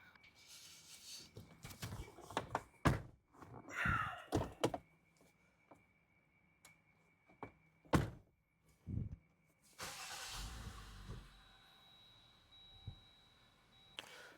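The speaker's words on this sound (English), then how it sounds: "We're shutting the doors," Car doors on a vehicle being fitted with a Zautomotive front-facing camera are opened and shut repeatedly, giving a string of close, loud thunks and clunks, with engine or electrical noise joining near the end.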